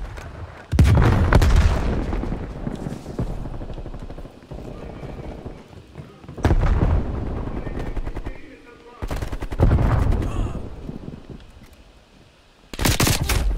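A frag grenade blast and bursts of automatic gunfire in the multiplayer shooter Call of Duty Black Ops Cold War, with several loud booming explosions and rattling volleys spread across the scene, separated by quieter gaps.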